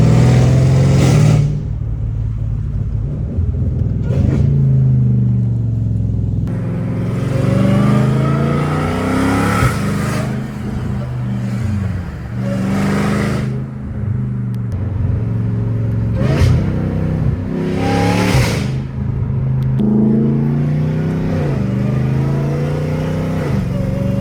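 A straight-piped Dodge Hellcat Redeye roars loudly from inside the car, its engine repeatedly revving and pulling with harsh bursts and drops in pitch under a constant heavy drone.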